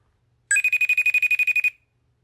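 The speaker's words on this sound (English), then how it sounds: "Answer the phone," A phone ringing with an incoming FaceTime video call: a steady electronic tone pulsing in about a dozen quick, even bursts over roughly one second, loud and close, with nothing else sounding.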